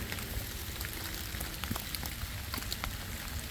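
Steady rain patters through a forest on a foggy day, a continuous soft hiss with scattered sharper drips close by, nothing else standing out.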